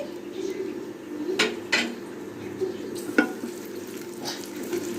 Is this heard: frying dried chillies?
yes